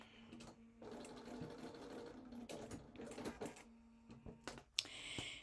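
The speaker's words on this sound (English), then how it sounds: "So I'm just sewing an eighth of an inch right along there." A pedal-driven sewing machine runs a steady eighth-inch seam through fabric for a Japanese komebukuro rice bag, with a continuous close whirring hum broken by brief pauses and a few sharp mechanical clicks near the end.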